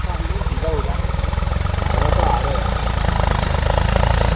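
A tractor engine idles at a village road-repair site, a loud steady low throbbing chug running throughout with rhythmic pulsing, while people talk over it.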